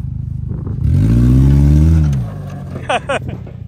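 A Dodge 1500 pickup engine revs hard as the driver floors it, a loud, rising roar that holds for about a second and then drops away. A few short knocks follow, with voices underneath.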